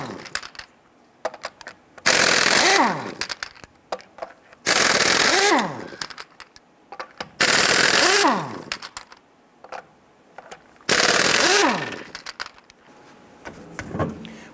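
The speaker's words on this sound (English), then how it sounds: "loosen and remove your lug nuts" A wrench with a 19mm socket removes lug nuts from a 1994-2004 Ford Mustang wheel in four loud, rattling bursts of about a second and a half each, separated by quieter gaps with small clinks.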